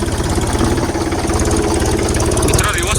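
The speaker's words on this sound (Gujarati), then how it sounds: "ટ્રેક્ટર અહીંથી રિવર્સ ચડાવવાનો છે" A tractor engine labours close and loud while reversing up a slope. It chugs at a steady pulsing rhythm, and a voice speaks over it.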